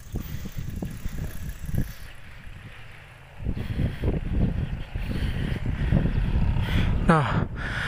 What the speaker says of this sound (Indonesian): Kenceng banget di sini guys anginnya.